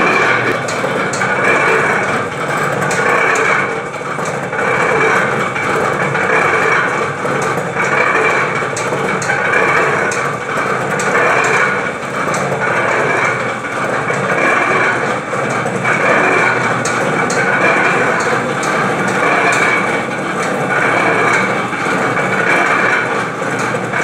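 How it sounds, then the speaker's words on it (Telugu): A groundnut oil mill grinds peanuts with a steady, loud mechanical drone and rhythmic knocking that runs unbroken and close for the whole stretch, with no talk over it. "ఇప్పుడు మనం గ్రైండింగ్ చూసేద్దాం."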